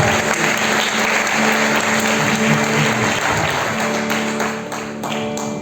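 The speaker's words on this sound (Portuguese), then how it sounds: "Uma salva de palmas para o nosso Senhor" A church congregation applauds during a sermon, producing a dense, steady wash of clapping that holds throughout and eases slightly near the end.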